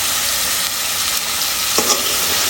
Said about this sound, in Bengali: এখন কষায় নেব